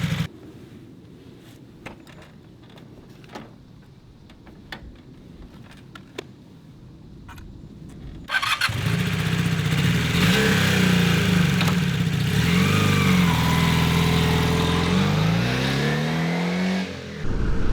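A Honda CB250 Super Dream motorcycle engine fires up after quiet room noise with small clicks, then settles into a loud, steady idle with slight rises in revs, close and alone.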